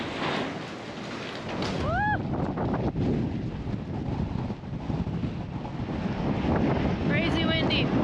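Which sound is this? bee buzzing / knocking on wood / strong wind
strong wind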